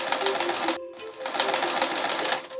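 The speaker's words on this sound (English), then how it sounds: "Sew the folds together." A sewing machine runs steadily, stitching the folds of a fabric scrub cap in one continuous, close, even whirring hum with a brief pause early on.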